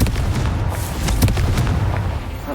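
Confringo fire spell cast in the video game Hogwarts Legacy, a loud, rumbling blast with crackling bursts sustained for a couple of seconds, close and alone without talking.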